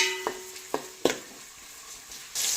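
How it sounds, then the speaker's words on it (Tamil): Onions frying in oil until golden brown, the base for a Chettinad sankara fish kuzhambu; a steady close sizzle is broken by three or four sharp spatula knocks and scrapes against the pan, with no talking. "வெங்காயம் நல்லா கோல்டன் ப்ரௌன் கலர் வர அளவுக்கு நல்லா வதக்கி விட்டுக்கலாம்"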